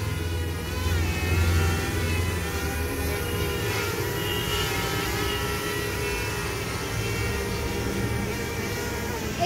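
A DJI Mavic Mini drone flies and comes in to land outdoors, its steady motor and propeller whine running continuously and fairly loud, with a slight swell near the start.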